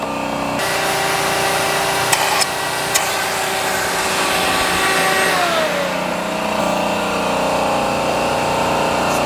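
A shop vacuum roars steadily while it pulls walnut blasting media out of a BMW N54 intake port, with a loud continuous whine and a few sharp clacks of debris and tools partway through.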